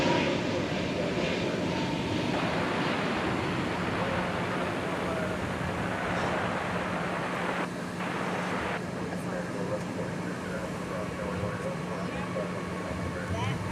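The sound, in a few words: Boeing 787 Dreamliner arriving at DFW Airport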